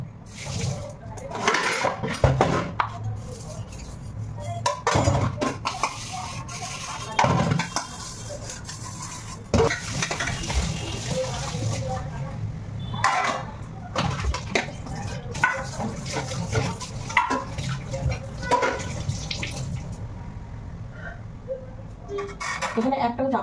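Dishes and utensils scrubbed and rinsed under running water at a home, with clattering metal pots and spoons and splashing, while people talk and a rooster or chickens call in the background.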